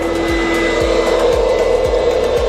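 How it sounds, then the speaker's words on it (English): A car wash mat cleaning machine runs loud and close, its dryers blowing a steady roaring hiss over a constant hum while the water press thumps in a regular rhythm roughly every half second. "what you're hearing is going to be dryers on the back with also a press that is pressing all that water and sucking that water"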